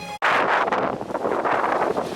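Strong wind gusts across open sandy ground with no trees, roaring loud and close into the microphone as a continuous buffeting rush after a brief drop at the start.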